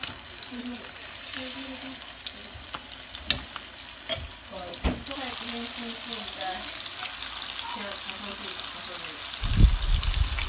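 Chicken sizzles and crackles as it fries in boiling oil, a steady bubbling hiss with occasional pops and clinks, some faint talk in the background.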